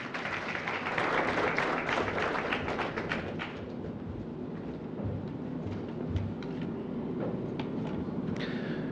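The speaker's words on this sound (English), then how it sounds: "Ladies and gentlemen, help me welcome, with a round of applause" An audience at a health and wellness trade show claps a round of applause to welcome a speaker, with a burst of dense clapping that thins into scattered claps before fading.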